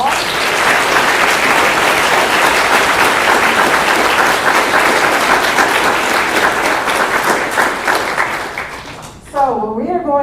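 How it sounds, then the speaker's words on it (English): A community summit audience gives sustained, loud applause lasting most of ten seconds, gradually tapering off before a speaker's voice returns. "let's give them a round of applause"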